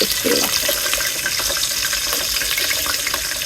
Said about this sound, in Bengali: তেল গরম হয়ে গেছে, এবং পেঁয়াজগুলো দিয়ে দিব।